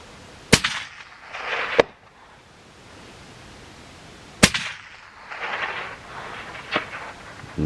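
Two suppressed rifle shots, a large Norwegian-made A-Tech suppressor on a .338 Lapua or .30-06 during a red deer hunt, each a sharp close crack with a short hiss after, spaced a few seconds apart with softer rustling between.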